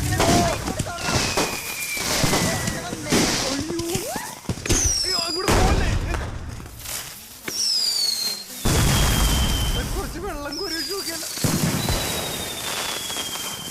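Firecrackers go off at a birthday celebration in a string of sharp bangs, some with rising whistles as they shoot upward, while people talk and call out nearby.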